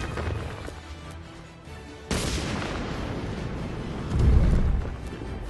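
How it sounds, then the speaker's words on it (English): An exploding rock in the video game Magicka sets off a loud boom that lands sharply partway through, followed by rumbling blasts and a heavier burst near the end. "Exploding rock, fellas."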